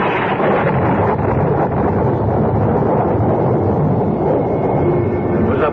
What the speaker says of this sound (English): It was a belt of thunder like the crack of doom